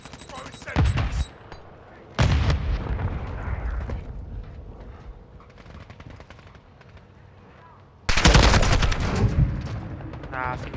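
Modern Warfare 2 multiplayer combat: repeated bursts of automatic gunfire, then a loud Semtex grenade blast near the end, with faint talk between the shots.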